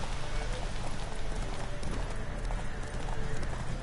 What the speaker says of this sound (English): I'm not into horse racing. It kinda sucks in this game.